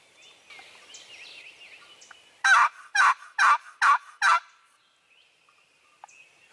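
A wild turkey gobbler gobbles in the spring woods, one loud rattling burst of five quick pulses, fairly close, with faint bird calls before and after.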